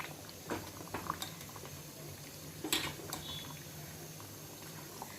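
Sirikura dal bubbling as it boils in a covered pot, a soft, steady simmer with faint pops and light patter over a low kitchen hum, no talking.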